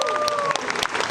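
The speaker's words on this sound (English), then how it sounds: "Give you guys a round of applause." Audience applause for a panel of YouTubers at a Kentucky Kingdom fan Q&A, steady clapping throughout with a brief tonal whistle-like streak early on and a few louder claps.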